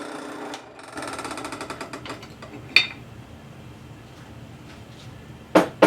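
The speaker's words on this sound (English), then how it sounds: "I enlarged the holes on the bearing support." Metal drilling to enlarge holes in a steel bearing support for a metal shaper, a rapid rattling mechanical chatter that fades, followed by a few sharp metallic clanks near and loud.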